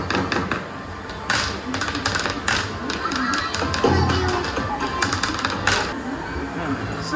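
Taiko no Tatsujin arcade drum at a Japanese game centre struck in quick, dense taps, with busy arcade din and chatter filling the background throughout.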